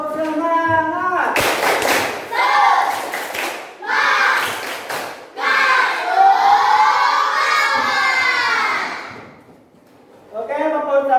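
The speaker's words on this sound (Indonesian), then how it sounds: "Oke, semuanya tepuk semangat." A group of schoolchildren in a classroom claps in bursts of rhythmic patterns, mixed with loud shouting and chanting. Several separate rounds are broken by short pauses, and an adult voice speaks in between.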